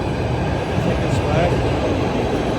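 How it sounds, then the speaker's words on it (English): A PATH train departs a station, rumbling steadily nearby with a low, continuous roar and faint rail noise, while a person speaks briefly over it. "That's the path train away."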